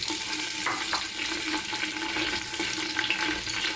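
Mutton meat goes into browned onions in a clay pot, setting off a loud, continuous hiss of sizzling with small crackles and stirring scrapes, close by and without speech.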